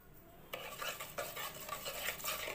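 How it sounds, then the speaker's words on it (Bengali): A spoon stirs egg batter in a bowl to dissolve sugar for egg pitha, giving a steady, close scraping and clinking against the bowl with no voice over it. "এখন এটাকে ভালো করে আমি মিশিয়ে নেব, চিনিটাকে গলিয়ে নেব।"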